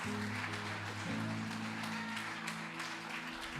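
Church congregation applauding in worship, a steady wash of clapping held at an even level over sustained organ or keyboard tones.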